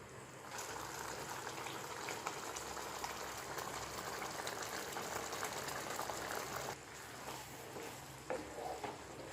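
Potato kuruma curry boils uncovered on a high flame with a soft, steady bubbling and faint simmer crackle, quiet and continuous.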